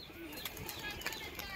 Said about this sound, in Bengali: চলুন আপনাকে ছেড়ে দেখাচ্ছি পায়রাটা কেমন বাজি